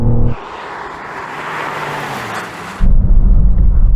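A car braking hard from 100 mph on cold tyres and cold brakes, heard as a sustained broad rushing roar of road and wind noise that cuts off abruptly into a low, steady rumble.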